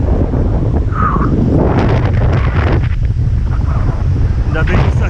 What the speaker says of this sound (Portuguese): o vento entrou muito rápido, muito forte. Você deve estar ouvindo na câmera